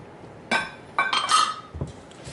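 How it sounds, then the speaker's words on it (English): Bright glassy clinks and ringing taps of a whisk against a glass bowl as egg is beaten into cream, a few close separate strikes ending in a duller knock. "You can whisk the egg ahead of time if you want to into the cream"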